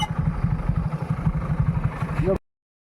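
A motorcycle engine idles nearby in the rain with a steady low putter, then cuts off abruptly.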